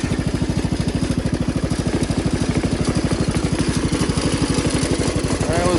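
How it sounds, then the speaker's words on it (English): A Jacobsen Chief 1200 tractor's Kohler engine idles close by, a loud, rapid, evenly pulsing single-cylinder putter with a slight clatter, holding steady throughout with no voices. "listen to that Kohler idle"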